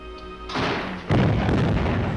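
A large gun fires in an old film serial, a loud booming blast that bursts in at mid-clip and swells into a second, heavier roar with rumbling aftershock.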